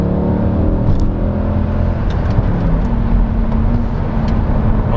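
A Mercedes-Benz C63 AMG engine with an automatic gearbox holds steady revs, giving a loud, continuous, close-up drone with layered low harmonics and no pauses.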